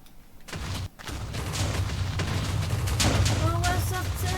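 An explosion in the Minecraft video game, a loud rumbling boom that sustains as a dense roar for several seconds, with a voice speaking over it.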